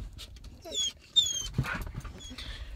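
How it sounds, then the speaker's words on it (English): A four-year-old blue nose pit bull pants softly and lets out a few faint whimpers close by, with quiet rustling around it and no talk. "he is a 4-year-old blue nose pit bull"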